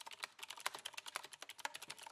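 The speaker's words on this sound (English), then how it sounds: "Keyboards." Fast, uneven clatter of keys on a computer keyboard, quiet and close, with rapid irregular taps running continuously without any voices.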